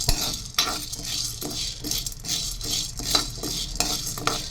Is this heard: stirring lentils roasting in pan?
yes